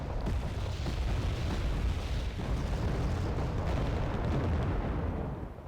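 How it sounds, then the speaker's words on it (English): Sustained artillery barrage in Wargame: Red Dragon, a dense, continuous roar of overlapping booms and rumbling blasts at steady loudness with no talking. "Now my artillery is coming in, firing on the positions just in front of my area"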